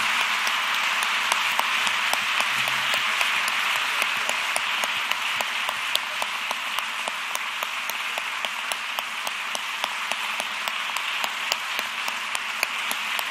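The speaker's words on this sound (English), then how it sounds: "Please rise and give them a round of applause" Sustained, dense applause fills the room from a standing audience at a millennial candidate debate at Belmont University, steady and even for the whole stretch with no talking.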